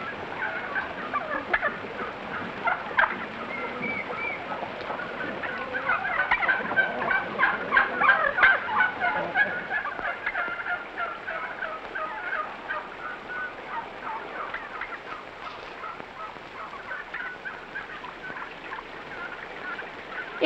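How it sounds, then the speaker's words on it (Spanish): A flock of turkeys gobbles continuously in loud, overlapping rattling calls that swell in the middle and go on without pause, with no talk. "Los guajolotes no son borregos."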